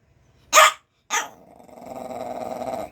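A dog at home in a kitchen gives two sharp, loud barks close by, then breaks into a sustained low growl that keeps building to the end, with no people talking.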